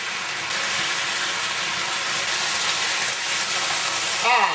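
Rabbit sautéing in a pan over a raised flame, a steady bright sizzle that holds evenly throughout, with a brief scrape near the end.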